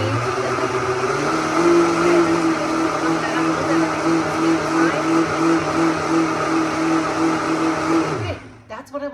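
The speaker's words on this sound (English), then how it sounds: "Got my new Vitamix." A Vitamix blender runs steadily on beet and vegetable juice with pulp, a loud continuous motor whine with a steady pitch that holds for about eight seconds before cutting off abruptly, followed by a few clatters.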